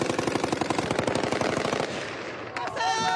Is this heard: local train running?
no